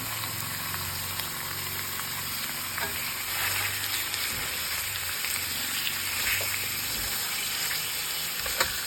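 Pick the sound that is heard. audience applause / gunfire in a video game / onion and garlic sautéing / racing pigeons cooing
onion and garlic sautéing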